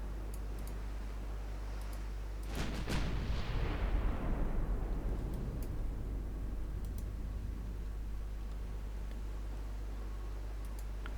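A loud naval artillery salvo from a warship in Ultimate Admiral: Dreadnoughts, a sharp double boom followed by a long rolling rumble that fades out over steady engine hum.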